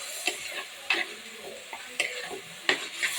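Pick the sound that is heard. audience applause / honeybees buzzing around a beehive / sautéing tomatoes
sautéing tomatoes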